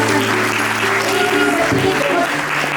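A hall of students at a girls' college medal ceremony applauds in steady, dense, loud clapping that carries through the whole moment without a break.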